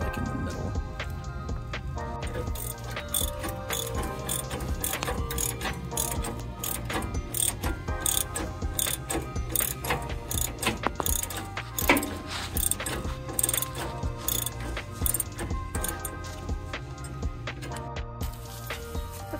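A ratchet tightens the mounting bolts of a Roadmaster Exact Center under a 2021 Ford Class C motorhome, giving rapid continuous clicking with metallic gear ticks throughout, close and steady, with no voices.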